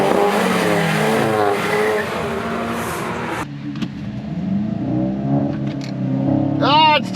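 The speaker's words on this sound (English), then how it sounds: "Oh, it's just spinning so bad. Wheel spin galore!" A VW GTI MK8 at a drag strip, its engine revving hard and tires spinning with squealing skids, loud and close, under excited talk.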